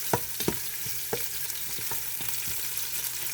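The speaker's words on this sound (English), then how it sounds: "you wait for the onion to caramelize a little bit and to listen a little bit" Onions sizzle in a pot for pork sinigang, giving a steady broadband frying hiss. Several sharp clicks and scrapes of stirring cut in at irregular intervals, close and clear, and no one speaks.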